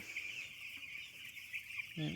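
Young, weak poultry-farm chicks peep in a continuous, thin, high chorus at a low level, and a brief voice-like sound enters right at the end.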